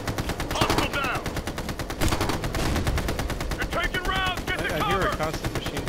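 Sustained machine gun turret fire from the Ghost Recon Future Soldier co-op mission in Russia's Caucasus, a dense unbroken stream of rapid shots throughout, with brief voices from other players mixed underneath.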